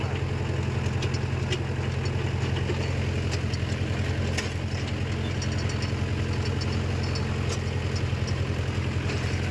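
A Mahindra 575 DI tractor engine, its tyre worn flat, idles steadily with a deep, even diesel chug and rhythmic knock throughout, close and continuous with no talk.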